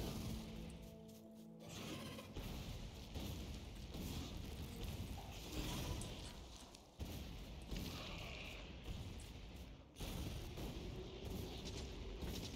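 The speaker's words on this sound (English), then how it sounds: "So I don't want to use my ammo to kill the biters if I can use grenades to do it." Grenades burst among biters in the Factorio video game, several dull booms landing in quick succession over a busy, faint background of game sound.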